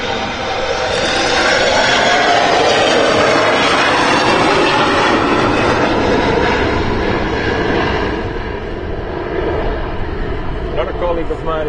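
An Embraer 175 jet at Amsterdam Schiphol Airport gives a loud, sustained broadband roar that slowly eases toward the end, with people talking over it.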